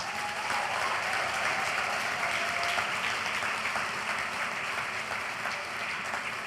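Steady, dense applause from a large audience at a 2023 college graduation ceremony, continuous and even throughout with no voices breaking through.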